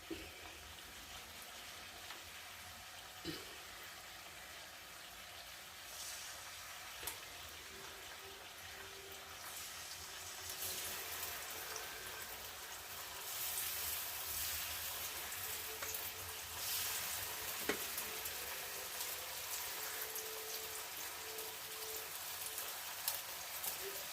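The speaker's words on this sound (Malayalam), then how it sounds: "ഇതേ പാത്രത്തിൽ തന്നെ നമുക്ക് മീൻ പൊരിക്കാം" Fish fries in a hot pan, a continuous crackling sizzle like light rain that swells louder partway through and keeps going, with occasional small clinks.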